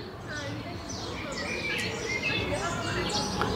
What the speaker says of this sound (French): Vous entendez les oiseaux là?